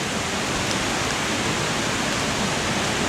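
A beck in good spate beside an old mill leat rushes continuously, a dense, even broadband roar of running water heard close and steady throughout.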